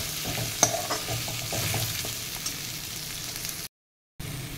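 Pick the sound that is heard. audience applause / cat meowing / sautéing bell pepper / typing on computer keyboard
sautéing bell pepper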